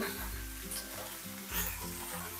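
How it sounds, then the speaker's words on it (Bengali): Okra and potatoes with turmeric and salt fry in a little oil over high flame, producing a soft, steady sizzle that stays faint throughout. "সব কিছু এবার হাই ফ্লেমে খুব ভালো করে ভেজে নেব"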